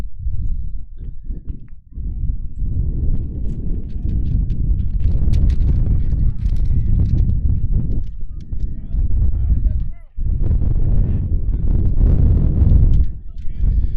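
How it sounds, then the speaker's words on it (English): Wind buffeting the microphone at a baseball game at Bear Field, a loud low rumble that gusts almost continuously, dropping out briefly, with broadcast commentary talk layered over it. "Gotta love the wind here at Bear Field, right? Yeah, blowing papers everywhere."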